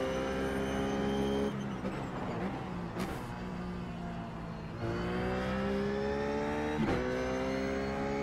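Race car engine in iRacing, a Ruf at Bathurst, revving loud and steady with rising and falling harmonic pitch through gear changes and a sharp shift blip midway, no talk over it.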